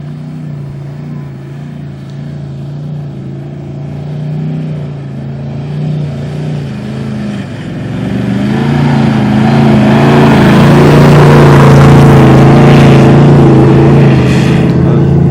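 A 4x4 engine labours up a steep trail while towing a Land Cruiser, first a steady mid-pitched drone, then loud revving with rising roar and gravelly noise as the vehicles climb, close by.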